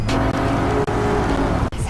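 A Renault Rafale SUV engine pulls hard in sport mode, a loud, steady, rising drone heard from inside the car, briefly cut by short dips.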